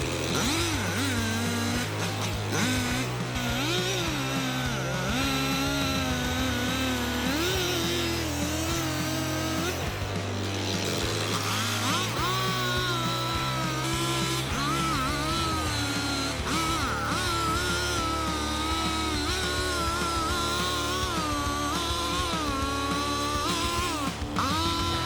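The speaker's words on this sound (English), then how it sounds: "The chainsaw roared in the silent ancient forest" A big chainsaw cuts into an ancient tree trunk with a loud, continuous motor whine that climbs and dips in pitch as the bar bites. It runs without pause and with no talking.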